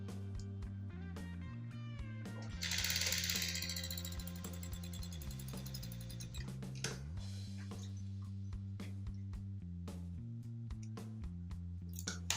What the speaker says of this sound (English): Right now I'm going to just drop a straight stitch here.